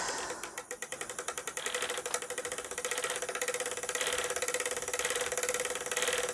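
A spinning wheel's bobbin, still nearly empty of yarn, rattles in a fast, steady clicking rhythm that runs continuously throughout, fairly quiet and with no talking.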